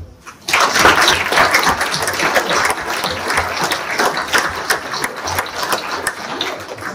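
An audience at a 2025 New Year's greetings ceremony breaks into loud, sustained applause, many hands clapping steadily together for several seconds after a brief quiet start.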